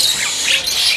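A kacer (magpie robin) at a bird-selling kiosk calls with harsh, scratchy chattering squawks, loud, close and continuous through the short stretch.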